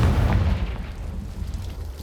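A Confringo blasting curse detonates in Hogwarts Legacy, a loud, close boom with a deep rumbling tail that decays over about two seconds.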